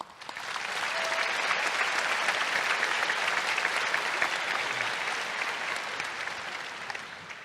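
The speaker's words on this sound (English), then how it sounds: "give a round of applause to some of the most wonderful people on this planet" Graduation audience applauds the parents at a high school ceremony, a broad, sustained wash of many hands clapping that swells quickly, holds steady and loud, then eases slightly toward the end.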